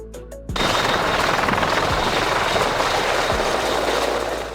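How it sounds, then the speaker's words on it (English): After a short musical lead-in, a search and rescue helicopter thunders close by with a dense, continuous rotor roar and rhythmic low chopping throughout. "A helicopter specifically equipped for search and rescue missions"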